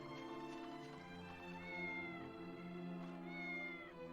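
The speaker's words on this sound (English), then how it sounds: "Just a cat?" A cat meows in the video game Dragon Quest VIII, two drawn-out, tonal meows over a soft, steady game backdrop, quiet and somewhat distant.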